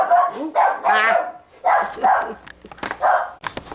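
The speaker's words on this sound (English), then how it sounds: "That's what the dogs were barking about." Several dogs barking at a package delivery, loud, close, repeated barks and yips in irregular bursts with short gaps between them.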